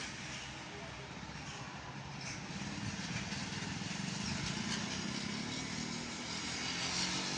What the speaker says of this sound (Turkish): Ay motor da kuşların sesini mahvetti